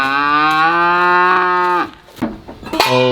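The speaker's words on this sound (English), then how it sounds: "Here come the cows." Cattle on a farm moo loudly and close by, one long drawn-out bellow followed by a shorter second call, with no talking.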